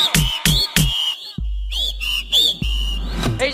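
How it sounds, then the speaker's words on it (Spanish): Studio audience on a Mexican TV game show whistling, with several loud short whistle blasts in a row followed by longer wavering whistles and low thumps, close and bright. "¡Todo el mundo chiflando!"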